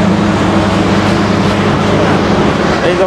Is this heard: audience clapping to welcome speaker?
no